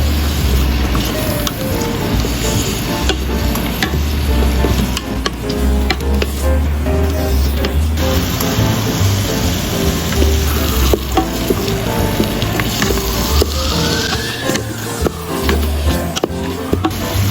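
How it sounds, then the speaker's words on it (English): Button mushroom slices stir-fried with turmeric powder and salt sizzle loudly and steadily in a hot pan, with a spatula scraping and tossing throughout. "Add 1 teaspoon turmeric powder and salt. Stir fry until fragrant."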